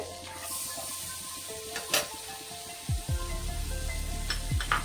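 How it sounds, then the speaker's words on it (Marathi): Corn and vegetables sauté in butter in a wok, with a soft steady sizzle, a few sharp utensil scrapes and knocks against the pan, and a low hum in the background, heard close with no talking. "आता आपल्याला भाज्या थोड्याशा परतून घ्यायची आहे, जरा 2 मिनिटं फक्त खाली परतून घेणार आहे मी"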